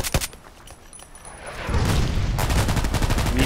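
Glock 17 pistol fire in the shooter game Contract Wars: a sharp shot opens, then after a lull a dense run of rapid, loud cracks continues steadily to the end.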